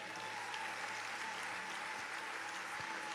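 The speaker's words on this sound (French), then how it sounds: "On peut applaudir pour lui." A church congregation applauds at a healing service, a dense, steady wash of clapping from many hands that fills the space evenly throughout at moderate distance, with no voices.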